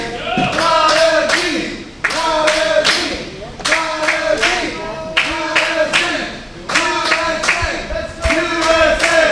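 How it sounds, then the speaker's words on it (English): A wrestling crowd chants for Prodigy, a loud, rhythmic group chant repeated in regular bursts with claps and stomps keeping the beat. "That's a better chant. Chant for Prodigy."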